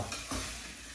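Minced meat for keema frying in a pan over medium to low heat, a brief soft sizzle with a single stirring scrape, faint and close.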